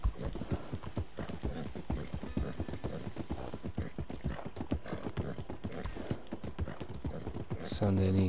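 A horse gallops in the Red Dead Redemption 2 video game, its hooves beating in a fast, steady rhythm. Someone speaks over the hoofbeats.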